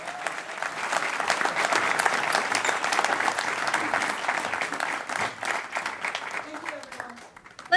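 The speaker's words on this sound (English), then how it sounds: "Let's give another round of applause to Mayor Karen Bass." Audience applause at a community event in Los Angeles for Mayor Karen Bass, dense sustained clapping from a crowd that gradually thins and tapers off toward the end.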